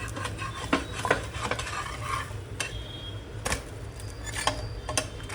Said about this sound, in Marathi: आता आपण डोसा पलटी करूया.